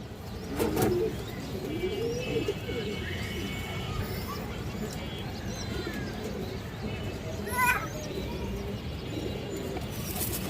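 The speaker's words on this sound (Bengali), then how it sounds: "হাঙ্গারিয়ান বুদাপেস্ট হাই ফ্লাই কবুতর" Hungarian Budapest high-flyer pigeons coo softly in low, throaty bursts over a constant background hum, with a few brighter chirps and clicks scattered throughout.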